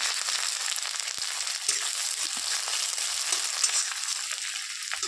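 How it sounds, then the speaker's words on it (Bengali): Chopped onion goes into hot oil and fries with a dense, even sizzle, close and continuous, with a few faint knocks and stirring sounds and no voices. "এবার যে পেঁয়াজটা কুচি করে রাখছি পেঁয়াজটা আমি দিয়ে দিলাম"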